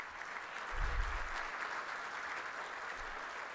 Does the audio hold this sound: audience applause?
yes